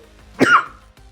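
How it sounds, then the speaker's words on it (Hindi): One short, fairly loud cough from a child, close to the microphone against a quiet background. "खांसी हो रखी है बच्चों पर"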